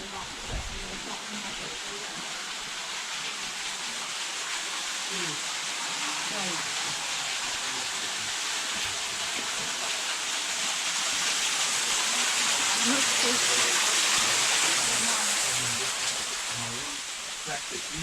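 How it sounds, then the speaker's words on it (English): Steady broadband rushing of a waterfall in Portugal, continuous and fairly loud throughout, with faint scattered voices and activity underneath. "Oh, we got the waterfall to the right."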